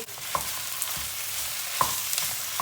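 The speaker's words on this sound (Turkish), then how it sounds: "Kıymayı boşaltıyoruz." Minced meat tipped into a pan of onions lightly fried in oil, starting a steady close sizzle with a few sharp spatter pops and faint stirring scrapes, no voices.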